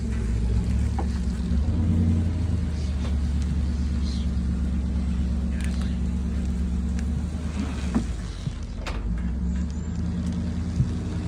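A 1967 Ford Mustang convertible in rough condition, its engine rumbling with a low, steady, fairly loud idle up close in a garage, with faint clatters and knocks over it.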